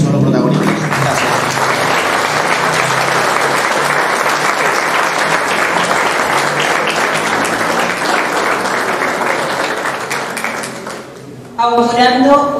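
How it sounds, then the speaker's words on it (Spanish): Sustained clapping from an audience at a secondary school ceremony honoring the students, dense and steady for about eleven seconds before fading, after which a voice begins speaking. "un fuerte aplauso para los alumnos y alumnas que son los protagonistas"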